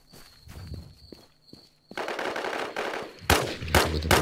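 Loud bursts of rapid gunfire from the video game Infestation: Survivor Stories, starting after a couple of quiet seconds of scattered thuds and footsteps, then rattling on almost continuously in dense volleys.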